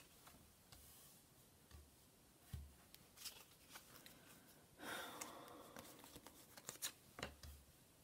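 Soft papery riffling and light taps of tarot cards being shuffled by hand, quiet and close, in short irregular bursts with small clicks.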